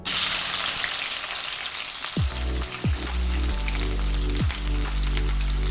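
Finely sliced onion and green chillies hit hot oil in a pan, setting off a loud, continuous sizzle and crackle with a few low thuds and tonal knocks from the pan, no voices.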